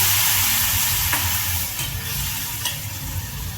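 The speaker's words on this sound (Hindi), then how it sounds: "so that masala थोड़ा सा भून के जल ना जाए, I'll add this mixture" Masala mixture sizzling in a hot pan for paneer yakhni, a loud, dense, continuous sizzle with stirring scrapes, heard close and without talk.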